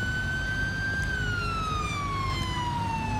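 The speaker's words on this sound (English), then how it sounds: "turn off that siren" A police car siren in the video game GTA 5 blares close and loud, a continuous electronic tone that holds steady and then glides slowly downward in pitch over a low engine rumble, with no talking.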